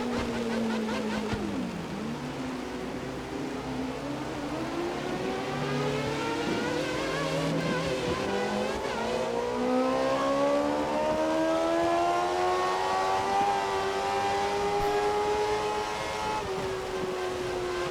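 Formula 1 car engines in the video game F1 2013 roar continuously at high revs, pitch climbing and shifting as several cars run close together, loud and steady with no talking.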